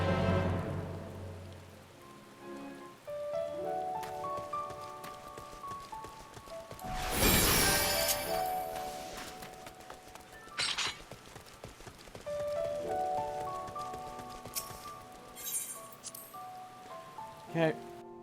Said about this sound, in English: It's very fitting that it's raining too,